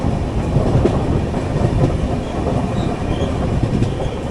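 The Mangala Lakshadweep Express passenger train, hauled by WKM3 locomotive 21955, rolls along the line. Rhythmic clickety-clack of the wheels and the rumble of the coaches carry loud and close throughout, with no speech.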